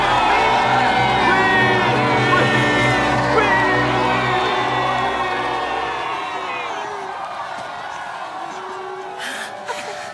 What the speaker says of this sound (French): Acclamez mon fils Isaac!